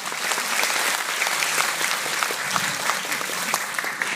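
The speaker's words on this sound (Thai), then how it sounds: "ขอเสียงปรบมือให้กับวชิรพีบาลนะครับ" Dense, steady applause from a concert audience fills the space for a few seconds, loud and continuous with scattered sharper claps and no talk over it.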